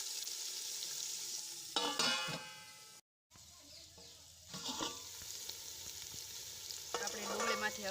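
Chopped tomatoes and onions cook in an oily pan with a steady soft sizzle, broken by a few bursts of stirring and utensil scraping and one brief dropout, with no talk.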